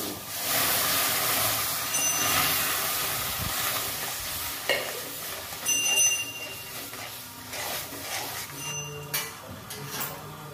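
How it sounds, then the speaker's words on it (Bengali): Semolina is stirred in a pan as milk is added little by little for a Bengali semolina sweet. Continuous frying hiss runs under scraping spoon strokes and occasional clinks against the pan, close up and with no talk. "অল্প অল্প করে দুধ দিয়ে সুজিটা আমি নেব"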